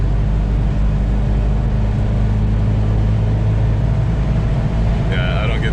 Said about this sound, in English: this is a 70-mile-an-hour frontage road, so get it up to speed